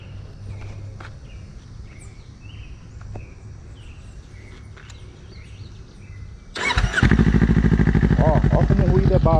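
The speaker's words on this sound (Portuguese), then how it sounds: "dar uma partida na moto aqui para vocês verem" A Kawasaki Ninja 400 fitted with a Jeskap sport exhaust tip and a dB killer is started; faint handling noises come first, then the engine catches and settles into a steady, fairly subdued close-up idle.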